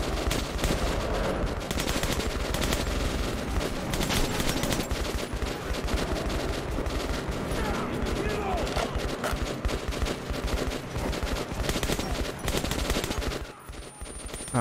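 Rapid, dense gunfire from the video game Metro 2033, including pistol shots, crackling almost without pause at close range and loud throughout, with a brief lull near the end.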